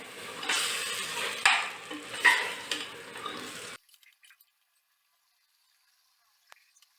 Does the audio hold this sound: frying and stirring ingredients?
yes